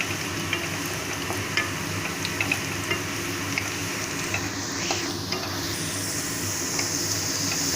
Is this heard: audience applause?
no